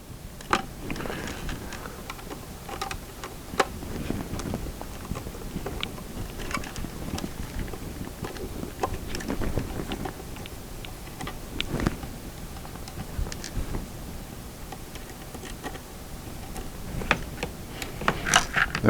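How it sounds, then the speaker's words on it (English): A Phillips screwdriver backs small stainless steel screws out of a plastic WaterPik handle, giving close, faint scraping and scattered sharp ticks and clicks at irregular intervals over low handling noise. "So we'll use a Phillips screwdriver. See if we can carefully take these little stainless steel screws out of here."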